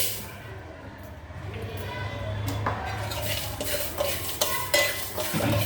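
Whole spices including star anise, peppercorns and fenugreek seeds dry-roasting in a pan without oil, giving a steady stirring scrape with light rattles and clinks of hard seeds against the metal, and a low hum beneath.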